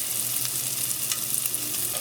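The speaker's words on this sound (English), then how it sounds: "Make the garlic just a little bit, not really brown." Garlic frying in a pan for keto stir-fried green beans, giving a continuous close sizzle with light stirring scrapes, alone and steady for a couple of seconds.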